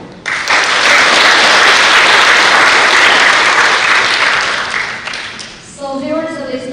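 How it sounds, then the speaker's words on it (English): An audience at a youth public speaking competition bursts into loud, dense applause for a speaker, holding strong before tapering off, after which a voice begins talking. "So once again, clap for her."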